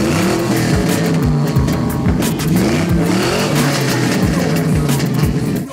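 A loud, close V8 engine in an Impala, a 1997 Vortec with Edelbrock intake and carburetor, revs and roars continuously, pitch rising and falling through repeated throttle blips with no talking.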